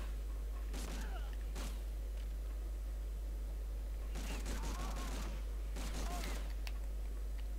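Gunfire in the Medal of Honor Frontline video game, with several short bursts of rapid shots and crackling fire over a constant low hum, moderately distant and fairly faint.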